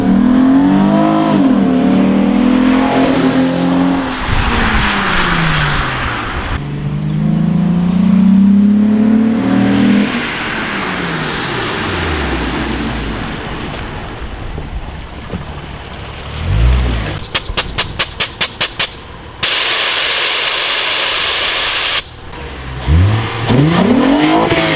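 Car with a loud aftermarket exhaust revving repeatedly, engine pitch sweeping up and down in long pulls, followed by a rapid burst of sharp pops and a harsh roaring blast near the end.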